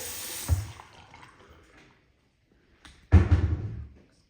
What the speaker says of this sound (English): I am going to turn the water on just to see if there's any sort of drip or anything.